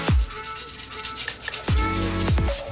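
Rough, scratchy rubbing strokes of sandpaper on a Yamaha Alpha's Mikuni carburetor repeat back and forth, worked hard against the metal, close and fairly loud with a few sharp knocks.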